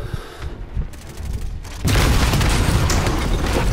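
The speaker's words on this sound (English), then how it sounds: "He threw a grenade." Grenade explosion in a Modern Warfare multiplayer match: after quieter gunfire and ambient rumble, a heavy boom hits and leaves a loud, sustained roar of blast and debris.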